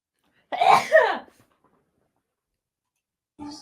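A single close sneeze with a sharp two-part burst, followed by silence and then a faint short sound near the end.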